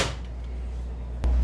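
A parts drawer stocked with costly titanium pieces gives one sharp, close knock a little past the midpoint, after a brief rushing sound at the start, over a steady low hum.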